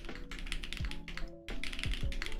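Typing on a Geon F1-88 plateless mechanical keyboard with Geon Black switches: close, quick bursts of soft clacky keystrokes with a brief pause midway.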